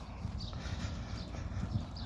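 Soft, irregular hoof clops of a newborn foal moving at a slow walk, low and muffled against steady outdoor background noise.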